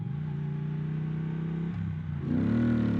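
Triumph Thruxton 1200 motorcycle engine in sport mode, a steady close exhaust note that dips when the rider shifts and then rises louder as it accelerates.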